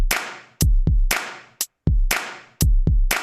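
Drum kit beat from a beat-making sequencer, with loud kick and snare hits in a steady, repeating pattern and no other sound.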